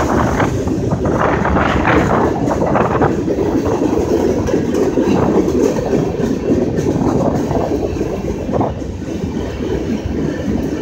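A loud, continuous rumble and clatter of train cars rolling past nearby, with wind buffeting the microphone throughout.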